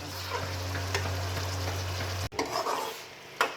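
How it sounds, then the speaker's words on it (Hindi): Chicken pieces fry in a pan while a spoon stirs them, making a soft continuous sizzle with a low steady hum beneath and a few light scrapes, then a brief break and fainter stirring sounds. "चिकन को हम इतनी देर फ्राई करेंगे जितनी देर के हमारा चिकन का कलर जो है चेंज नहीं होगा।"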